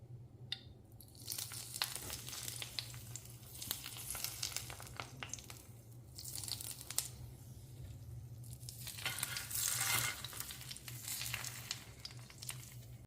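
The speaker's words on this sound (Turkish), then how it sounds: "Evet tereyağımızı dökelim" Butter poured into a hot pan with a steak fillet for homemade fillet İskender, frying with a steady crackling sizzle that swells and fades over a constant low hum, no talking.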